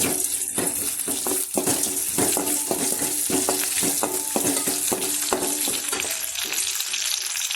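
Cumin and pepper fry in a pan for South Indian white pongal, a close, continuous sizzle with regular clicks of stirring throughout, no voices.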